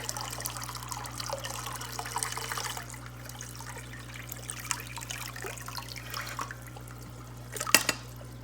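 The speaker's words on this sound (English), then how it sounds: "And then I let this cool, and I'm just gonna pour this into the tank." Cooled water steeped with leaves and alder cones is poured into a shrimp tank, a faint soft trickle and dribble of liquid against quiet room noise, ending with a brief louder splash.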